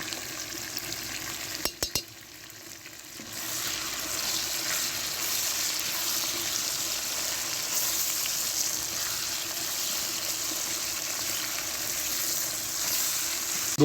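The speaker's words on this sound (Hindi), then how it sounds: "आलूओं को अच्छी तरह से हमने भून लिया है।" Potatoes sizzle and fry steadily in a pan for a potato katli dish, a continuous broadband crackle broken near the start by a few sharp stirring clicks, with no voices.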